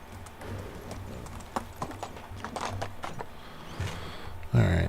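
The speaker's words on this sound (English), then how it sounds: "Can you move, horse? Oh, barely, but yes." Horse hooves clip-clop in steady rhythm in the medieval survival game Medieval Dynasty, with quieter background sounds and a brief louder burst at the end.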